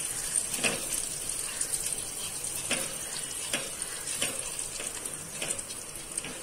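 Turmeric, red chilli powder and coriander powder fry in a pan on low flame, a constant hissing sizzle with regular scrapes of a spoon stirring through it, close and unaccompanied by talk.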